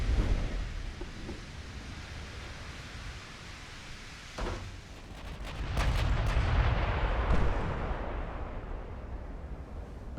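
Heavy naval gunfire from battleships firing in the video game Ultimate Admiral: Dreadnoughts, with sharp booming blasts over a continuous roaring rumble that swells into a sustained barrage midway through.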